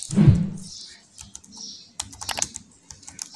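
Keys pressed on a Dell Inspiron 3521 laptop keyboard, a handful of sharp plastic clicks and taps in an uneven run, close and clear with a low thump at the start.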